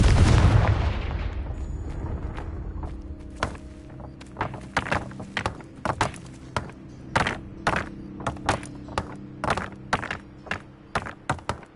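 Confringo spell in Hogwarts Legacy, opening with a loud burst that decays, followed by a long series of sharp, irregular cracks and thuds over a steady low hum.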